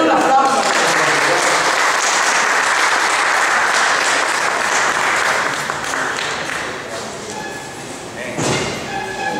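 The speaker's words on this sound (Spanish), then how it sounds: "Denle un aplauso." A church congregation at an evangelical service bursts into loud, dense applause that fills the room, then thins somewhat toward the end, with a few sharp thuds.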